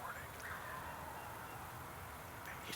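A wild turkey longbeard gobbles from its roost on a rainy Missouri morning, a distant call carried over steady rain and a low background rumble.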